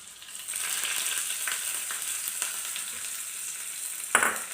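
Hot tempering of mustard, cumin, curry leaves and chilli sizzles loudly as it is poured into a pressure cooker of black chickpea curry, a steady frying hiss with a sharp burst of spatter near the end.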